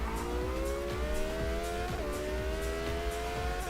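An Indy car engine from Forza Motorsport whines at a steady high pitch, rising and dipping with small shifts in revs, heard faintly and unbroken with no talk over it.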